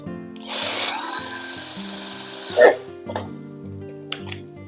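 A power drill driving screws to fasten a CCTV camera mount onto a block, a whirring burst near the start that winds down, followed by short clicks and handling knocks.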